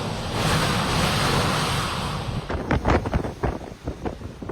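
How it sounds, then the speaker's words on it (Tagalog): Typhoon Leon lashing Batanes, with a loud continuous roar of wind and heavy rain, then sharper gusty bursts and rumbles toward the end. "ramdam na ramdam ang tila nagngangalit na ulan at hangin"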